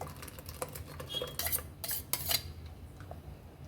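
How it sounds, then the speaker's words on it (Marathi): A spoon stirs ground grape pulp in a vessel, giving several sharp clinks and scrapes of metal against the bowl at close range, with no talking. "त्याला छान असं चम्मचनी ढवळून ढवळून छान असं याचं पाणी आपण काढून घेऊ अंगूरचं"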